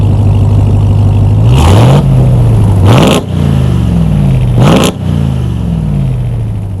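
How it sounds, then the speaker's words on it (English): Ram TRX pickup truck with free-flow manifolds, a crossover and 5-inch exhaust tips, its engine idling with a deep low drone and blipped through three sharp, loud revs that rise and fall back to idle. "The truck sounds great with free-flow manifolds, a crossover, and 5-inch exhaust tips."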